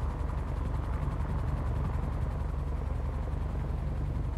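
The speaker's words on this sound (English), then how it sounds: "I've got a chopper over my head" A helicopter hovers over a player in a GTA V FiveM roleplay game, its rotor beating in a constant low throb and its engine droning steadily the whole time, with no voices.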